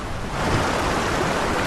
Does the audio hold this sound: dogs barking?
no